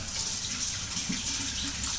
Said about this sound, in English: Wash my fingers again.